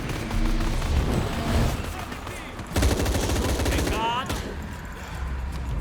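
Gunfire in the video game Shadow of the Tomb Raider: a rapid automatic burst rattles out mid-way amid steady game ambience and other rumbling effects, close and loud.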